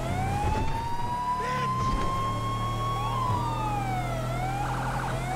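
A wailing police car siren in GTA 5 sweeps up and down continuously over a steady engine rumble, with a second siren tone briefly layered in near the end.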